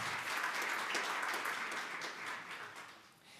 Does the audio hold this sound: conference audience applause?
yes